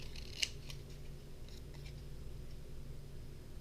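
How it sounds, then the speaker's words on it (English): Scissors cut paper shapes for a handmade Valentine card: one crisp, close snip near the start, then a few faint snips and soft paper rustles in a quiet room. "cut like this and then get them down to the size I want them"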